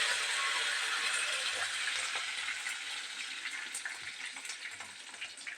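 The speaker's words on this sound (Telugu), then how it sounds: "తాలింపు గింజలు వేసుకున్నా, చిటచిట అంటుంది." Mustard seeds and curry leaves crackle and sizzle steadily in hot oil during tempering for a broad bean dish, a close, dense frying hiss with scattered pops and no talking.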